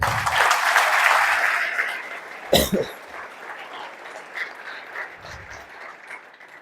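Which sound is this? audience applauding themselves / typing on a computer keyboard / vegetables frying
audience applauding themselves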